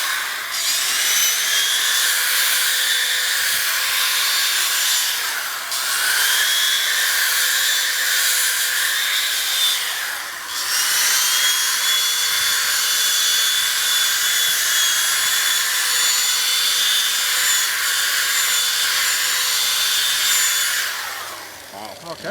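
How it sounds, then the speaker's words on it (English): A machine polisher buffs a Mercedes headlamp lens after 3000-grit wet sanding, giving a steady, loud, high-pitched motor whine with brief dips in speed, running alone and without a break. "is now finished with the 3000 grit wet sand"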